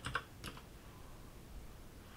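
A computer keyboard clatters with a few quick, quiet keystrokes at the start, commands being typed in an Ubuntu terminal, followed by near silence and faint room noise.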